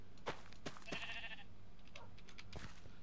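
Sheep in Minecraft let out a few short, bright bleats spread across a few seconds, faint and fairly close, set against a quiet game background with no speech.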